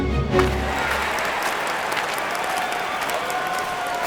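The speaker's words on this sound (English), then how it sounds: "we have to cheer Aadi." Cartoon crowd cheering and clapping at a children's race, a sustained wash of applause and cheers that starts with a brief low rumble, then holds steady and moderately loud.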